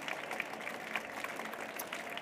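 An audience at a reading contest final clapping for a finalist, a faint, distant spread of scattered hand claps with a few sharper claps standing out.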